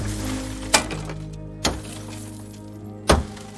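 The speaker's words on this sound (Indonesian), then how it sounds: "dia pun emosi dan menghancurkan mobil ayahnya sampai semuanya pecah" A father's car being smashed, with three loud separate crashes of breaking glass and impacts spread over a few seconds against a low rumbling background.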